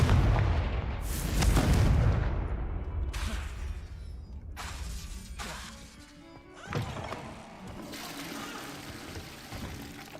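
Confringo fire-spell blasts from Hogwarts Legacy boom and crackle in a string of heavy impacts, a deep rumbling explosion first and then several sharper bursts, with flickering fiery debris between them.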